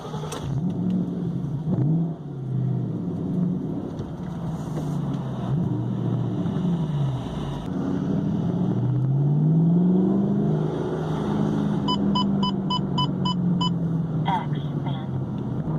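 A 2014 Shelby GT500 V8 engine revs in loud rising and falling surges that swell to a peak midway, with a few high clicking ticks near the end.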